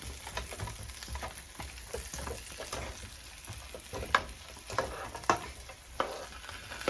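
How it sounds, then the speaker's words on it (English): Corn kernels frying in butter in a pan give a soft, steady sizzle with scattered pops and crackles as they are rolled around, fairly quiet and with no voices. "Just go ahead and roll that corn around in that butter."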